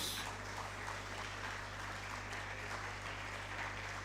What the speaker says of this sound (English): we give them a resounding applause for that Herculean task they are performing for us in here